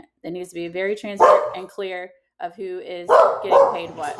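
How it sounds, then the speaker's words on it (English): Dogs bark in the background, sharp barks overlapping someone speaking steadily in the foreground, with the barking partly masked by her voice. "So sorry for the dogs."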